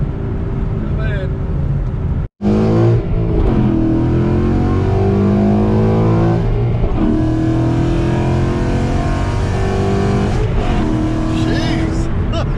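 A car that has just had a clutch job, running untuned, revs and accelerates hard with a loud, rising engine roar that briefly cuts out, then pulls strongly again. People talk over the engine noise.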